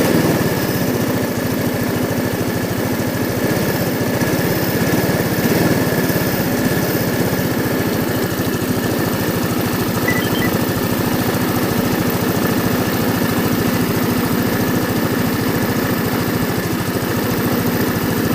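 A scooter engine idles steadily and close while warming up for a long stretch, a continuous buzzing rattle with no clear rise in revs.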